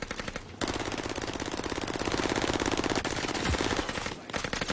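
Rapid automatic gunfire in a video game rattles in one loud, continuous burst lasting several seconds, with short quiet gaps before and after.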